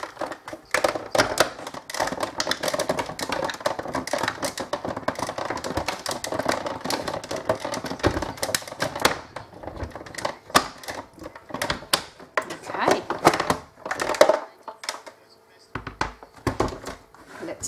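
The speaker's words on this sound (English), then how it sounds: "I am going to run this whole platform through my Go Press, sorry, Go Cut and Emboss machine" A Go Cut and Emboss die-cutting machine feeds a platform through to cut a ball gown die, giving a steady mechanical clatter and rumble that runs for most of the span, with brief quieter gaps near the end.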